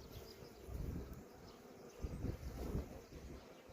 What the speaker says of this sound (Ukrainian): щоб бджіл не тривожити, бджіл тут насправді багато